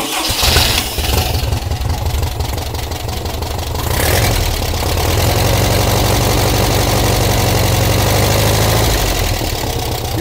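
An engine with no silencer idles roughly and loudly right up close, exhaust pipes leaking, a harsh continuous mechanical drone with a rattling knock that swells slightly after a few seconds and holds steady.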